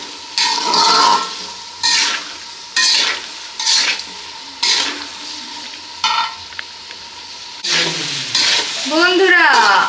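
Meat curry is stir-fried kasha-style in a pan, with repeated bursts of loud, close sizzling and scraping as it is stirred in rhythmic strokes, the last seconds carrying a clattering scrape and a faint overlapping voice.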